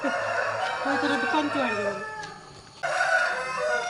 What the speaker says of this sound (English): There are some fighter cocks here.